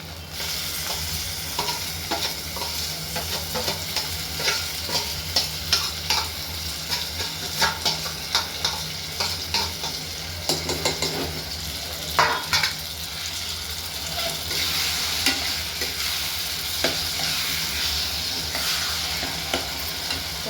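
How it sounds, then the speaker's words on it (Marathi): Mashed eggplant mixed with masala and turmeric frying in oil with browned onion for a chutney, a loud continuous sizzle with frequent stirring scrapes throughout. "तर आता हे तेलात टाकते."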